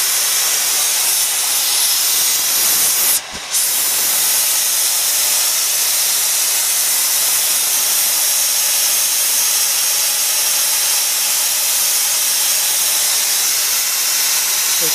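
Loud, steady hiss of liquid nitrogen being pumped into large dewar flasks and cylinders, filling the scene continuously with a brief dropout partway through and no voices.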